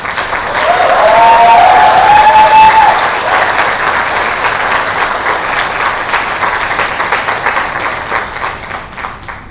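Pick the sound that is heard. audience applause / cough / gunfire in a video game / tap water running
audience applause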